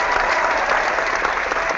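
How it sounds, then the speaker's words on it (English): A crowd at a church gathering gives Rob Beasley a full, dense round of applause, steady and loud for the whole moment. "Everybody give him applause."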